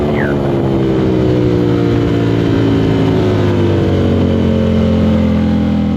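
Aprilia RS660 motorcycle fitted with a CRT exhaust at Barber Motorsports Park, its engine droning loudly and steadily at high revs with the pitch gradually sliding as it holds a gear on track, close and unbroken throughout.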